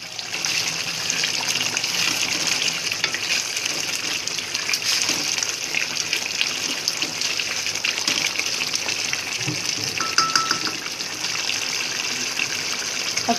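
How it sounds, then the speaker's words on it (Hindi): Liver and spinach fry in a pan, giving a steady, close sizzle with a watery, bubbling hiss that carries on for the whole stretch with no talking. "ये देखें माशाल्लाह बहुत अच्छे से अब भून रही है ये।"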